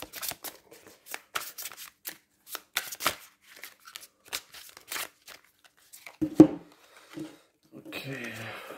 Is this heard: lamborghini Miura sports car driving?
no